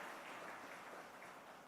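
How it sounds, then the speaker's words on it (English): An audience at a business panel event applauds a moderator, a dense, even wash of clapping heard from a distance, fairly faint and sustained without pause. "a nice, big, resounding round of applause for our moderator"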